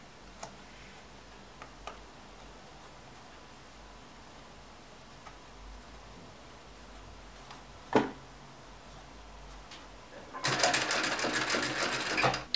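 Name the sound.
sewing machine stitching a round leather pouch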